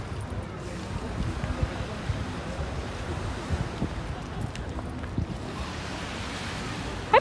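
Waves washing onto a beach at sunset on the coast of Belgium or France, a steady rolling surf roar mixed with wind buffeting the microphone.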